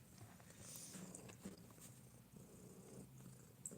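A pet cat purrs softly and steadily up close, a faint continuous rumble with small rustles and sniffs on top, no voices.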